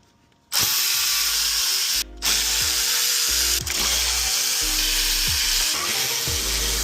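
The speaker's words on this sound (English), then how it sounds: "We can start pulling our intake plenum bolts." A power tool spins and ratchets out intake plenum bolts on a 2015 Jeep Wrangler, loud and close, in repeated bursts with brief pauses between each bolt.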